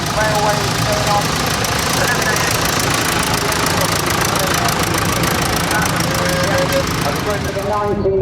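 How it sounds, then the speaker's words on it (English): A Fordson Major tractor engine runs loud and near at a country fair, with a steady knocking rumble and a faint pitch shift toward the end as it passes, while people talk nearby. "Just look at this wonderful Fordson Major coming past me"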